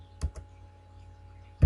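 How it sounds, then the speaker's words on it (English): Number entry on a computer keyboard: a couple of quick close keystrokes near the start and a sharper tap at the end, separated by a quiet pause. "we're going to type in the numbers are here"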